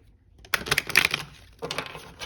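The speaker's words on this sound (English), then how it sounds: "we'll do one last shuffle here." Tarot cards riffle and slap together in two quick bursts of shuffling, close by and crisp, with a brief pause between them.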